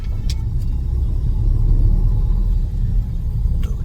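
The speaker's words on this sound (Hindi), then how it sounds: "अरे बड़ा ट्रैफिक आ रहा है भाई सड़कों पे।" Heavy road traffic rolls past as a continuous, loud, low rumble of vehicles close by, with occasional faint higher clicks and no voices.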